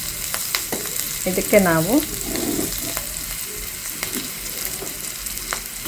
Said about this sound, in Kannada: ಒಂದು ಕರಿಬೇವು ಹಾಕಿದ್ದೀನಿ. ಇದನ್ನು ಸ್ವಲ್ಪ ಫ್ರೈ ಮಾಡಾದಮೇಲೆ